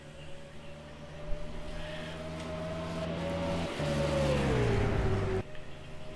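V8 race cars thunder down the main straight at Sydney Motorsport Park in a racing video game, a steady engine drone rising in pitch and volume before dropping as the car lifts off.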